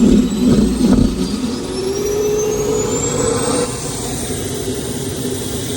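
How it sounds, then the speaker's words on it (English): Ground air cart (huffer) blowing air into the jet starter of a Lockheed F-104 Starfighter engine, a loud steady roar with a rising whine that climbs over several seconds, no voices. "We're gonna get the huffer blowing air to the jet starter on the engine."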